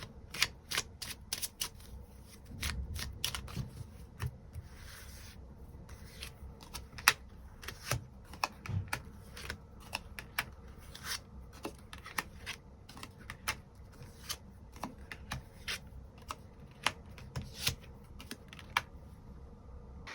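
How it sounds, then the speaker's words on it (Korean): Tarot cards are shuffled and drawn one after another, giving off a long, quiet string of sharp, close card snaps and riffles at an uneven pace, with no voices. "추가 카드로 일별로 월요일부터 일요일까지 어떤 하루를 보내게 될지 추가 카드 뽑아보도록 하겠습니다"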